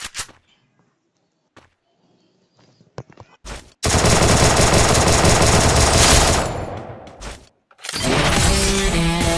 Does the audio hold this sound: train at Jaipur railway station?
no